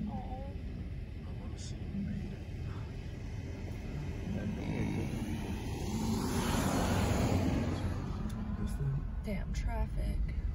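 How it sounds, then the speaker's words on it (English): Road traffic rumbles near Yellowstone bison, with a vehicle swelling past in the middle and a continuous outdoor engine and wind wash throughout, while people talk in the background. "Damn traffic."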